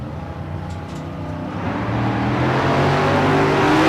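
Drag racing cars launch hard from the starting line, a loud rising engine roar that swells and builds steadily over several seconds without letup.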